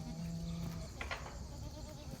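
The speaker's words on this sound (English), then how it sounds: "And so one last cute shot of the goats" Goats on a permaculture farm give a short, faint bleat near the start, followed by quiet outdoor ambience with little other activity.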